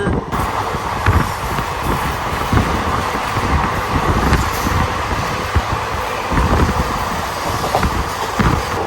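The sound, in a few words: WDG 4G diesel locomotive hauling freight train passing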